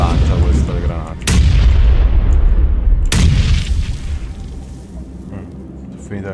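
Two heavy grenade blasts in the battle royale game PUBG, each a sudden loud boom trailing into a long rumbling decay, roughly two seconds apart, with a voice talking over the game audio.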